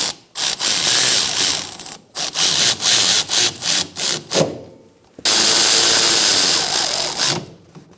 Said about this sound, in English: we're going to tighten up our other bolts and torque those to 16 foot-pounds